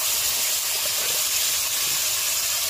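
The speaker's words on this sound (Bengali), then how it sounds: "তেলটা গরম হলে আলুটা ভেজে নেবো" Potatoes fry in hot oil in a village kitchen, a loud, dense, unbroken hiss and sizzle close to the pan.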